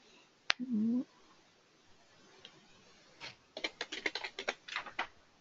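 A computer keyboard is typed on while writing a small program, a quiet start with a brief beep, then a quick burst of close, crisp keystrokes in an uneven rhythm near the end.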